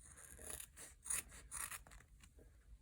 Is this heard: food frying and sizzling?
no